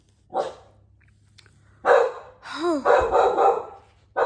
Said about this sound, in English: He finally stopped barking.